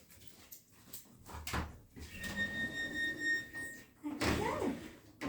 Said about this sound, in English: can you excuse me 1 minute while I let my dog out?